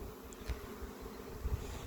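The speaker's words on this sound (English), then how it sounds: "We've got a lot of bees hatching, right?" A steady, low insect drone hums throughout, many honeybees buzzing close by around a hive, with no voices over it.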